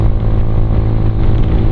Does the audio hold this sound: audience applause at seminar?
no